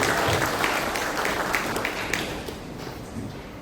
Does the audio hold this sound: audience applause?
yes